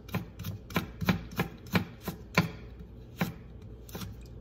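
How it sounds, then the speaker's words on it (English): A knife chops through stacked carrots on a cutting board, cutting them into julienne strips with a quick series of sharp, evenly spaced taps that sound close by and carry no speech. "Then once you have your carrots that you can stack, go ahead and stack them and then cut it into strips."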